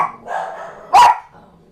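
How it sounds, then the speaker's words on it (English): One sharp dog bark, loud and close, rises out of a low background murmur. "Apologies for the barking."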